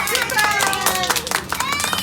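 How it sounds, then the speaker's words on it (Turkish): A group of children in a relaxation-therapy class clap their hands together for a couple of seconds, nearby and moderately loud, with a voice and shouts mixed in over the clapping. "Hepimizi alkışlıyoruz."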